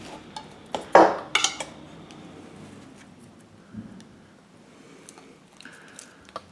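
A metal tin holding a Casio G-Shock watch clinks and rattles as it is handled, a few sharp metallic knocks close by, then softer scattered taps and rustles.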